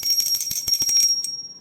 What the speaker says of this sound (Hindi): तो मैंने घंटी बजा ली